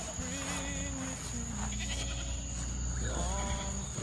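Goats on a goat farm bleat in wavering cries, one near the start and another toward the end, over a steady outdoor background with faint voices talking.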